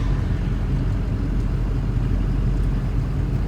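A race truck with a built 6.0 Powerstroke diesel drives along with a steady, deep engine rumble and road noise, close and continuous with no talking.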